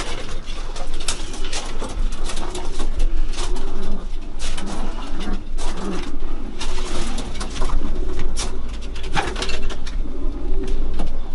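Pigeons coo steadily and repeatedly, several birds layered together in a close, busy loft with a box for each pair, with faint rumbling in the background.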